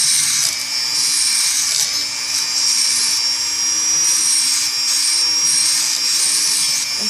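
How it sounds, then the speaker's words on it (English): A fine sanding wheel runs steadily along metal edges, giving a continuous high whirring whine with no pauses and no voices. "fine sanding wheel, like this"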